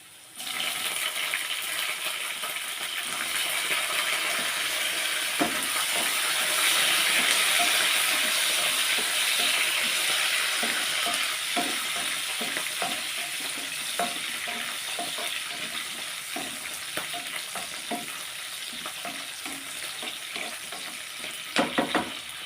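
Bottle gourd chutney ingredients fry in a hot pan before green chillies go in, a steady dense sizzle with scattered crackles and occasional stirring scrapes, fairly loud and close throughout with no talking.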